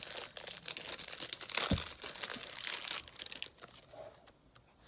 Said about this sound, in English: So let's tear it out.